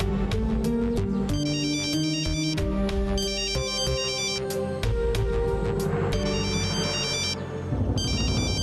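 A telephone ringtone plays loudly and alone, a bright repeating electronic melody in short bursts with brief gaps between phrases.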